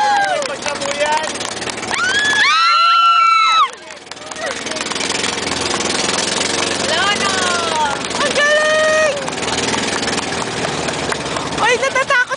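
Boat motor running steadily and loudly on a dolphin-watching trip off Bohol, a continuous engine drone with people shouting and talking excitedly over it throughout.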